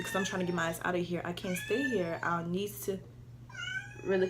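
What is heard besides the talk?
cat meowing outside a door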